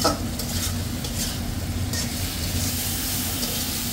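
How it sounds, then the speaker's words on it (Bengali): Chopped tomato, spices and vegetables sautéing in oil in a home kitchen, a steady, close sizzle and crackle with light stirring scrapes, continuous and even throughout with no talk. "টমেটো আছে কাটা, দিয়ে দিলাম। দেখেন খুব সুন্দরভাবে কষানো হয়ে গেছে।"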